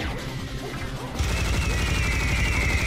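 A Tommy gun fires in the Serious Sam: The First Encounter video game as a dense, continuous burst of loud, crackling gunfire with no pauses, growing heavier partway through.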